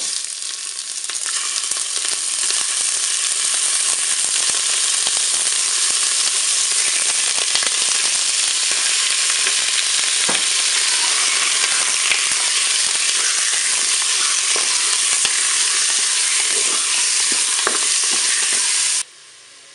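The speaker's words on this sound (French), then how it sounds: "Je vais faire dorer maintenant mes tranches de filet mignon." Filet mignon slices browning in a preheated Cookeo multicooker give off a steady, loud sizzle and crackle of frying that runs without a break for nearly twenty seconds, then cuts off abruptly at the end. No one speaks.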